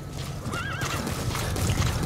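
A horse neighs in the video game Metal Gear Solid 5: The Phantom Pain, a wavering whinny over ongoing hoofbeat clip-clops and game background sound, fairly close, no talk.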